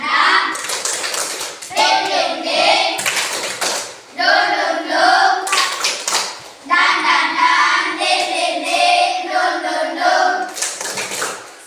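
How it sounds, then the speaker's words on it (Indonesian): Classroom children perform a rhythmic spirit clap, tepuk semangat, sharp patterned bursts of hand claps alternating with chanted group voices, loud and close in repeated phrases. "Tepuk semangat."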